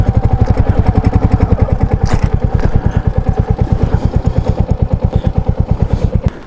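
A motorcycle engine idles with a steady, rapid thumping pulse after an off-road mountain ride, loud and close, running alone for the whole stretch.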